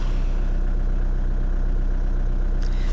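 A 2012 VW Golf engine idling just after starting, having sat unused for five weeks: a steady, slightly rough low rumble close by, with a faint brief click near the end.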